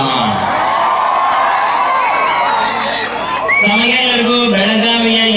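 A crowd cheers and whoops loudly at a Kannada literary conference in Talikoti, with shouting voices holding steady throughout and rising again near the end.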